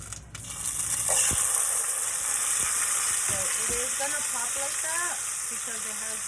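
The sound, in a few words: refried beans added to a hot pan, sizzling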